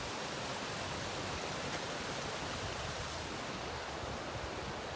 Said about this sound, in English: So I've arrived at the waterfall.